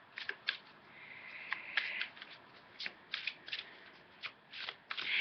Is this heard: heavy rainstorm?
no